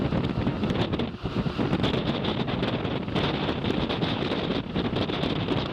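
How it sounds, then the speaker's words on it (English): Strong wind roars across the open ground of subantarctic Campbell Island, a loud, steady, buffeting rush that pounds the microphone for the whole stretch with no voices. "Wind's really blowing hard now."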